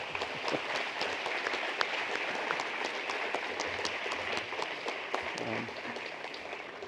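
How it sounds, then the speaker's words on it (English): Warm audience applause at an evening forum hosting mock US presidential debates, steady dense clapping filling the room from start to finish with a few sharper claps standing out and faint murmuring underneath. "So please give him an extra warm round of applause."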